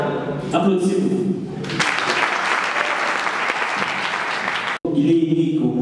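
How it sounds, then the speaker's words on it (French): Loud audience applause at a comedic show fills the middle seconds alone, a dense steady wash of clapping, with talk before it and again after it cuts off sharply. "Applaudissez-vous."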